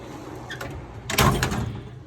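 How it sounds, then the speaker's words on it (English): A drawer on a US General 44-inch tool box from Harbor Freight slides open with a brief rolling, rattling metal rumble that swells to a louder burst near the middle, then fades. "But that drawer does slide nice already."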